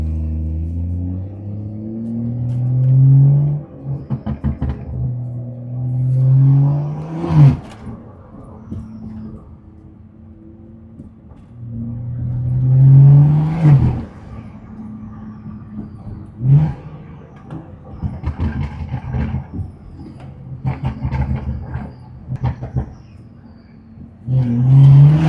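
Straight-piped BMW 340i tuned to about 500 hp sits on launch control, its exhaust rising in repeated loud revving pulls with crackles and pops between them. The clip holds several bursts over steady idle rumble, and no one speaks.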